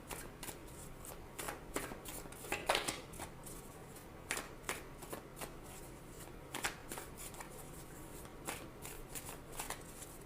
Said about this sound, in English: So let me go ahead and shuffle here